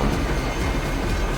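A train rolls along its rails in the side-scrolling shooter Sine Mora, a loud, dense rumbling clatter that holds steady throughout without any voices.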